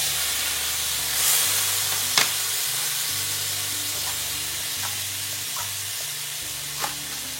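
Mushrooms that have released their water and begin to brown sizzle steadily in a frying pan, a continuous close hiss with a few sharp stirring clicks and no talking.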